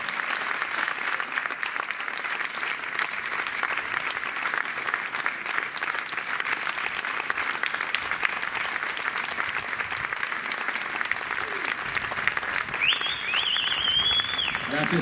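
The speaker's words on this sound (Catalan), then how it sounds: "Gràcies pel vostre aplaudiment" A concert audience claps steadily and loudly after a live music teachers' performance, dense sustained applause with a few whistles or high cheers rising near the end.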